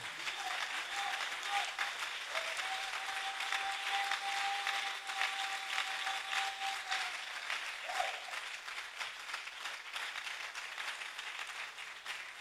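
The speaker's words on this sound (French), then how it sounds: "Est-ce que tu peux acclamer pour le Seigneur?" A church congregation at a Congo worship conference applauds and cheers for the Lord, sustained steady clapping from a large crowd with a few voices calling out over it.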